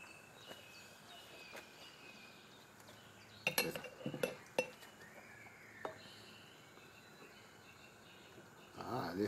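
Metal spatula scraping and clinking against a pan while Kaiserschmarrn cooks outdoors, a few faint scrapes and a cluster of sharp clinks in the middle, with quiet background and birds faintly audible.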